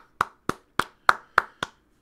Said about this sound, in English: Let me give an applause to the UFC right now.